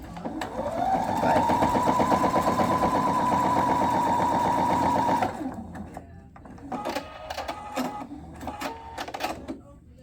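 A walking-foot sewing machine stitching leather runs in a fast steady whirring, clattering burst for about five seconds, then stops, followed by scattered clicks and handling noises.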